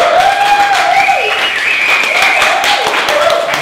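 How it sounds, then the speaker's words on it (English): A startup networking event audience applauds a guest speaker with dense, continuous clapping that fills the room throughout, loud and close, with a voice talking over it. "give him a round of applause"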